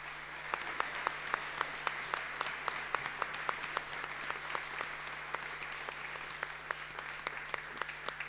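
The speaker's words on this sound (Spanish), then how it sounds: "ebastián Borenstein, la comisión directiva y toda la Academia de Cine te aplaude y te celebra, querido maestro" Applause at a film academy tribute, heard fairly faint and distant, with individual sharp claps standing out in a steady rhythm over a low hum from the room's sound system.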